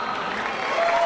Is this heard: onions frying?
no